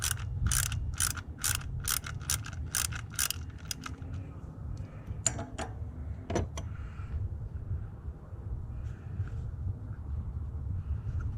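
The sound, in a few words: 10mm socket ratchet loosening a Toyota ignition coil pack bolt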